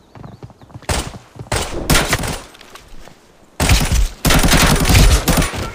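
Gunfire crackles through a firefight in the shooter game Arena Breakout Lite, loud bursts of rapid automatic fire separated by short pauses, breaking off briefly and then resuming in a longer, heavier barrage.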